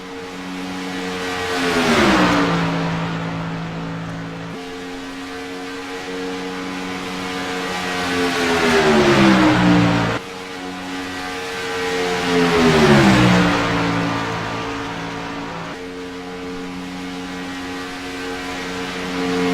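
Race trucks lap Talladega one after another, each engine note rising and then dropping in pitch as it passes, loud and continuous with overlapping drones and no talk.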